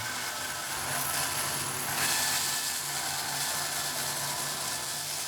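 A scroll saw cuts curves in olive wood, giving a continuous close mechanical buzz with a steady fine rattling blade and a slight swell midway, heard alone without speech.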